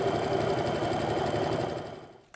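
A sewing machine runs steadily, stitching the hem of a fancy apron, its motor whirring continuously and close before slowing and stopping near the end.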